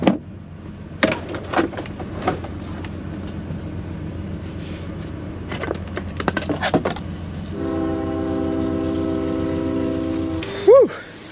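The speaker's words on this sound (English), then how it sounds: "There is a freaking train. Look how slow that thing is going." A slow freight train rumbles steadily by with clanks and knocks, heard from a semi truck, then a loud horn blasts in a sustained chord, followed by a short squeal.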